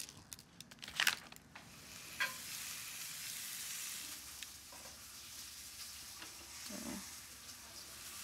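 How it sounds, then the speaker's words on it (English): New Zealand lamb browning in a pan with kosher salt, giving a steady close sizzle and frying hiss, with a few sharp crackles and stirring sounds near the start. "So I'll brown this on both sides for about 5 minutes"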